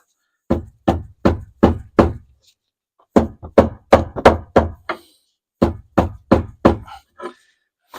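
A spanner is struck against a stubborn, tightly locked bolt on a Maserati 4200 coupe, giving sharp, close metallic knocks in three quick bursts of four to six hits separated by short pauses.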